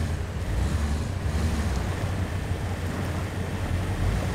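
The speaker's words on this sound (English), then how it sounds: "That's... some fast moving water there" Fast-flowing river water in the MudRunner off-road driving game, a steady loud rushing wash with a low rumble that runs unbroken throughout, no voices.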